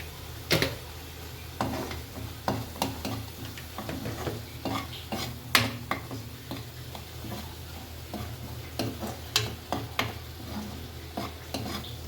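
A spice mixture for a curd sambar fries in a pan, soft sizzling under repeated clicking spatula scrapes and taps at an irregular, steady pace, no talking.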